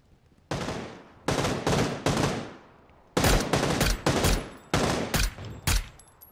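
Video game gunfire crackles in loud, close bursts: a long volley, three quick rattling bursts, then a pause before another string of sharp automatic bursts, with no talking.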